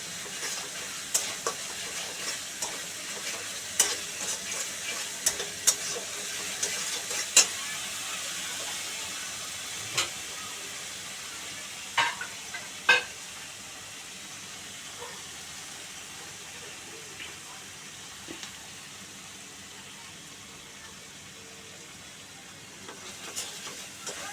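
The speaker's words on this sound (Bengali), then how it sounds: "মশলাটাকে ভালো করে কষিয়ে নিলাম" Masala paste being sautéed in a pan for a thin home-style chicken curry, a soft steady sizzle with scattered clicks and scrapes of stirring, with a brief louder tap now and then.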